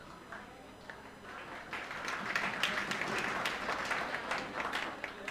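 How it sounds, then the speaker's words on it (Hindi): An audience at a Hindi-language teaching session breaks into applause, starting sparse and building into fuller, denser clapping that stays fairly loud for several seconds. "आपने ताली बजाई"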